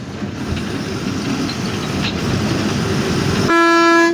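Train running on the track near Araku Valley railway station, a steady rumbling roar of passing cars heard close by, ending with a loud sustained horn blast in the final half second.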